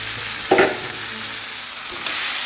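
Cut eggplant and potatoes fry in a pan with a steady close sizzle, broken by a sharp stirring scrape near the start and a second swell of sizzling later on.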